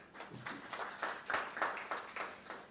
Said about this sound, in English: Let's give that a hand clap.